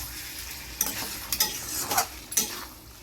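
Mutton pieces fry in oil in a pan as they are stirred, a soft constant sizzle punctuated by several sharp scraping clinks of the spoon against the pan, close and fairly quiet with no talking.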